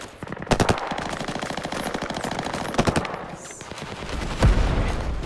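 Loud rapid machine gun bursts rattle out in a video game battle at an outpost under attack: several sustained volleys with brief pauses and a heavy impact near the end.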